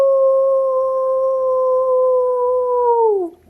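A child imitates a wolf howl with the voice, one steady, loud, close tone held for about three seconds before it drops and trails off.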